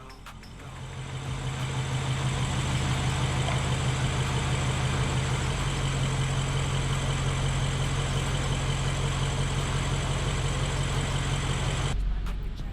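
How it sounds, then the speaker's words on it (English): A rebuilt BMW 750i V12 engine idles steadily with a slightly rough, continuous hum. It swells up at the start, holds at an even level with no talk, then cuts off near the end. "The engine is running rough a little bit because of a few bad connections"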